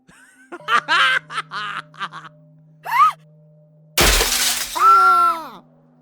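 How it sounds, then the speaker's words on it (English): A car's rear driver's-side window is smashed with a single blow, producing a loud, sudden burst of shattering glass. It follows dramatized shouting and voices, and a high, manic cackle comes right after the crash. "The Bunny Man smashed the rear driver's side window with one blow."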